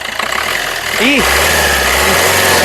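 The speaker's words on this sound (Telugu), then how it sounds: "ఒకసారి ఈ కార్ ఇంజన్ స్టార్ట్ చేసి చూపిస్తాను" A 2017 Maruti Suzuki Ciaz ZETA engine starts up with a brief rising whine and then settles into a steady, loud, close idle hum.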